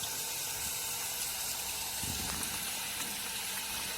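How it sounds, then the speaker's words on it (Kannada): Pumped water rushing through a pipe into a borewell during drilling outdoors, a loud, steady gushing roar that holds unbroken throughout. "ಅಲ್ಲಿಂದ ಪೈಪ್ನ ಮೂಲಕ ಈ ಥರ ನೀರನ್ನು BHPಗೆ ಬಿಡ್ತಾರೆ"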